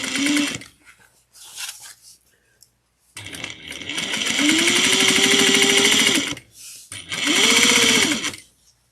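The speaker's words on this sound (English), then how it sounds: "I'm going to sew. I'm going to back stitch a few." Sewing machine back stitching fabric for a tote bag at a 3/8 inch seam, with a short burst, a pause, then a long steady whirring run and another short run, loud and close and heard alone.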